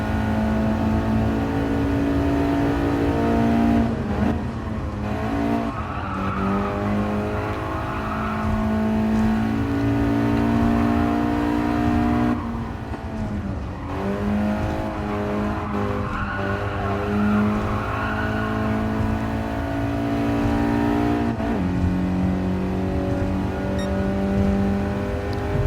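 Race car engine revving and shifting through gears in the GT Sport VR racing game, loud and continuous with rising and falling pitch sweeps and occasional tire skids, no talking.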